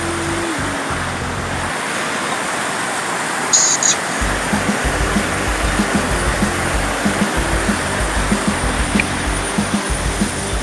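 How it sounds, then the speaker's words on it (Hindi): A river flows beside the Tambdi Surla temple parking area in Goa, a steady broadband rush of water running throughout, with low rumbling swells in the background. "आप रिवर की आवाज सुन सकते होंगे इस वीडियो में।"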